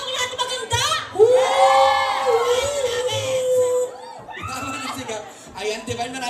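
A crowd at a celebrity fan event supporting Barbie Forteza and David Licauco shouts and cheers loudly, with high excited voices swelling into a sustained roar, then falling to scattered yells.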